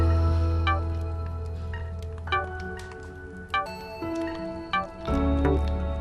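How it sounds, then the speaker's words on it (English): Water is drunk from a bottle in the survival game Impact Winter, with a few gulping, dripping liquid sounds set against a tonal musical background, brief and moderately close. "now I think I'll have to drink probably both bottles of water here"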